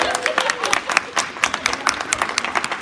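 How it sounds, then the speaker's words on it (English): Scattered claps from a small audience, a light uneven patter of individual hands rather than a full roar, running briefly throughout. "let's give her a round of applause"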